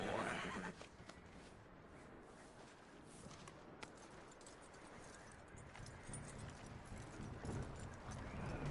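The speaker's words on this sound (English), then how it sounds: "That looks like a decent horse." In Red Dead Redemption 2, a horse whinnies briefly at the start, then hooves clip-clop steadily beneath a dense wash of outdoor game ambience, faint and a little distant.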